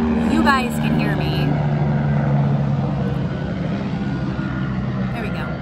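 A helicopter passes overhead, a loud and steady rotor-and-engine roar that fills the whole stretch with little change, with brief traces of a voice at the edges.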